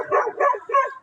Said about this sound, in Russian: Молодая собачка.